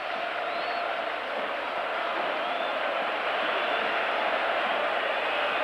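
A large home stadium crowd at a 1986 Barcelona versus Juventus football match roars in celebration of a goal, a dense, sustained wall of distant cheering with no breaks.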